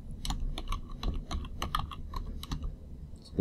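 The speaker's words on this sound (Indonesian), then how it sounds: "Kalau kita ketik print, kemudian pakai ini ya, string," Rapid, close typing on a computer keyboard while writing Python code in PyCharm, with irregular bursts of crisp key clicks and no talking.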